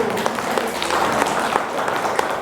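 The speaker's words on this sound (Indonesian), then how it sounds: "Tepuk tangan lagi." Brief burst of audience applause at a parenting seminar, a dense patter of many hands clapping steadily for a couple of seconds, fairly loud and close.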